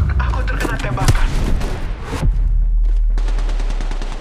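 Rapid bursts of automatic gunfire crackle loudly throughout a mobile Apex Legends match, with sharp impacts and a sustained roar of game audio and a voice speaking over part of it.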